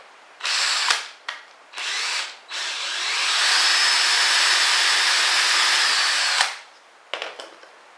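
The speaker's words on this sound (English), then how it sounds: "Got a drill bit on my drill." A power drill fitted with a thin bit bores into scrap wood, starting in three short whirring bursts, then running in one steady high whine for several seconds before stopping, with a few light knocks after.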